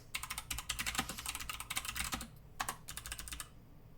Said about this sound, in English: Let's say you're typing something.